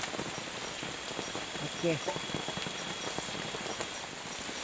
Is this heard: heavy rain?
yes